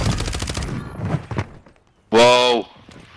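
Gunfire in Call of Duty MW III on Rebirth Island, a burst of loud close shots following talk, with a rapid rattling volley ringing out before falling quiet.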